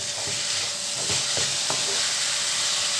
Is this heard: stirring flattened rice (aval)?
yes